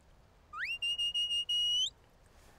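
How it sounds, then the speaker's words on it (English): Sheepdog recall whistle command, a sharp rising note that holds high and breaks into quick pulses before one longer steady blast, shrill and clear against a quiet background. "That one is a recall whistle."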